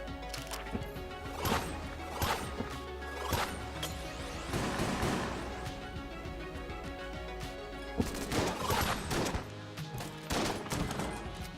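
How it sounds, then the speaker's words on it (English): Dual-shot pistol fire in the game Enter the Gungeon, repeated quick pairs of crisp pops with in-game crashes and impacts, moderately quiet and continuous over a backing music bed. "This thing is a dual-shotting pistol there."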